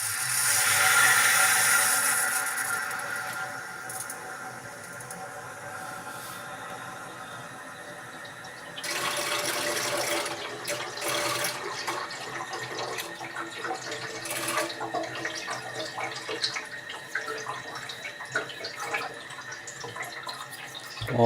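Water rushing through the filling loop into a Baxi 105e combi boiler, a steady hiss that swells louder partway through and continues unbroken, with no talk.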